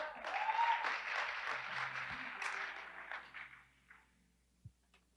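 A youth church congregation claps for its worship leaders and musicians, a brief burst of applause with a few cheers that fades out quickly, leaving a couple of stray claps near the end.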